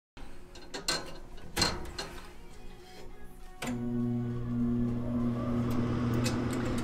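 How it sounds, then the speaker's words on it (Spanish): A gas boiler starting up, its combustion fan motor spinning up after some clicks and knocks and settling into a steady, fairly quiet hum with a sustained tonal whine. "Lo primero que se pone en marcha es el ventilador, el motor de combustión que está aquí"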